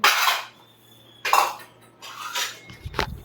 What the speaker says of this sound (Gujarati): મમ્મી વાસણ ઘસે અને કિચન બીચન સાફ કરી દેશે